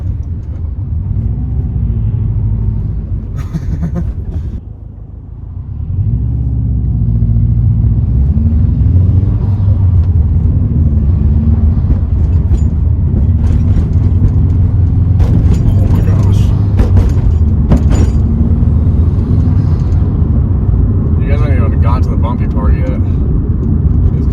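A Subaru WRX heard from the passenger seat while driving, its engine a continuous low rumble that dips briefly then swells as it pulls again, with road noise and occasional clicks over the top.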